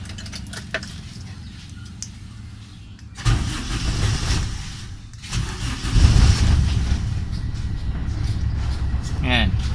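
Keys jingle, then an owner-type jeep engine cranks and catches, settling into a running idle with a louder surge; faint talk is mixed in.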